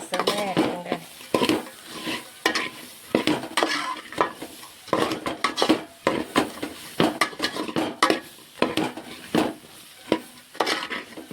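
Fried seafood (ural varuval) mixed with ground garlic is stirred in a sizzling pan, with repeated close scraping and clinking of a metal spoon against the pan in an uneven rhythm.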